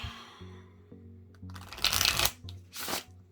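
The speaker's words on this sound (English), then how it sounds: "I love shuffling these thinner decks like this, because it's just so much easier to riffle shuffle" A thin deck of tarot cards is riffle shuffled close up: soft taps and slides, then a crisp fluttering burr of cards interleaving, followed by a second shorter riffle, with faint background hum.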